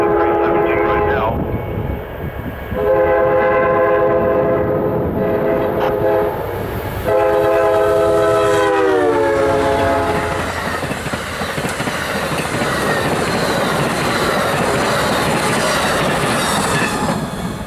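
An Amtrak train passes through snow-covered Agency, Iowa, sounding a loud multi-note horn salute in repeated blasts over heavy rumbling and wheel noise, then continuing to roar past after the horn stops.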